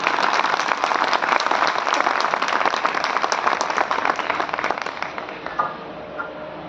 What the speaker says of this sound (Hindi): सभी ताली बजाकर उनका स्वागत करें।